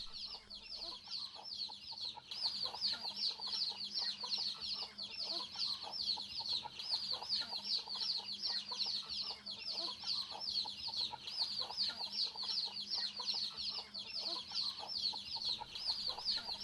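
A flock of traditional backyard chickens in a village in Odisha clucks continuously. The busy, overlapping clucks are fairly close and steady, with no talk.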